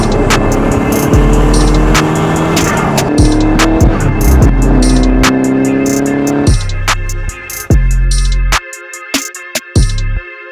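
A JDM car engine rumbles loudly and steadily, with sharp revving bursts and gear-change dips, then settles into a choppier, stuttering rumble toward the end.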